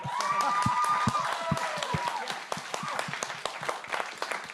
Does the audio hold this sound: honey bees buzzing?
no